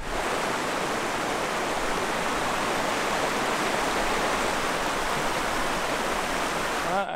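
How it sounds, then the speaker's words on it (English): A waterfall near Iceland's Solheimajökull glacier roars as a loud, continuous broadband rush of falling water, steady from start to finish with no voices. "Let's have a look at the waterfall first."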